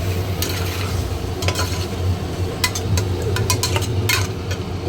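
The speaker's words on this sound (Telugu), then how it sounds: "వేసుకున్న కదా బాగా వేగించుకోవాలి, కలిపించుకోవాలన్నమాట" Onions, ginger paste and tomatoes frying in oil in a pan, stirred steadily with a utensil; a continuous close sizzle runs under repeated scraping strokes against the pan.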